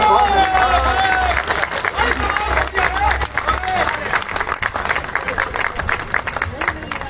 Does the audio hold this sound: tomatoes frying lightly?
no